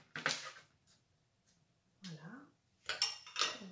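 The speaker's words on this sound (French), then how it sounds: "je prends deux cuillères et puis je vais faire des petits tas" Two spoons scooping a sweet mixture for sand rose treats into small heaps on baking paper, light clinks and scrapes in a few short clusters, with someone speaking between them.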